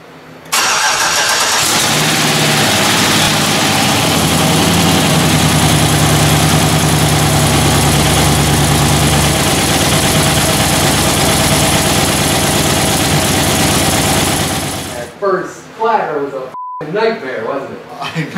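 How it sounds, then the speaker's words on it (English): A car engine with noisy, not fully pumped lifters runs loud and rough up close, a dense clattering roar that holds steady, then cuts off and voices talk. "likely they didn't get pumped completely, so there will be noise with those lifters"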